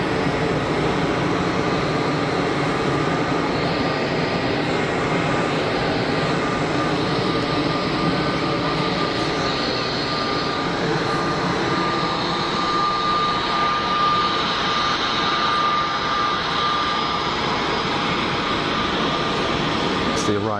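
An arriving A320neo-family airliner taxis at Geneva Airport, a loud continuous jet engine whine and rumble holding steady throughout, with a voice talking over it.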